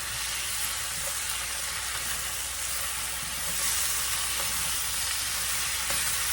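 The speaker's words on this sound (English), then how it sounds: "Now, let's get this stirred up." Sizzling and frying in a skillet as chunky salsa is stirred into browned ground beef, a steady broadband crackle with faint scraping from the spoon, close and continuous, no talking.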